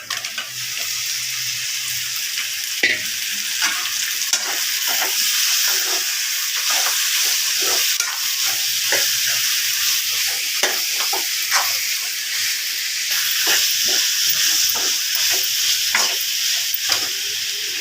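Chicken sizzles steadily in a hot pan with curry leaves, a constant bright frying hiss broken by frequent clinks and scrapes of a stirring spoon, with no talk.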